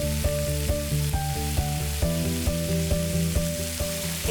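Cashew and charmagaz melon seed paste sizzles steadily in a hot pan, a dense close crackle with regular clinks and knocks of a utensil against the pan.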